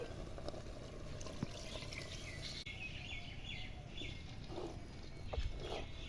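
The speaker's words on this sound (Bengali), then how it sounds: "দেখো জলটা দিয়ে দিচ্ছি" Water is poured into a pot of handi chicken while cooking, a faint steady splashing and trickling at low level amid soft background noise, with no talking.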